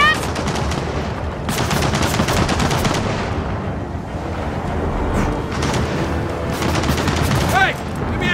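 A mounted turret machine gun fires in Gears of War 4, sustained rapid bursts of loud automatic gunfire in several long volleys, with battle noise and shouting voices in the mix.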